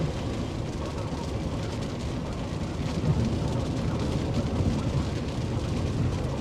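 Heavy rain pours steadily during a thunderstorm, a dense, continuous roar with a low rumble swelling slightly midway, no distinct claps.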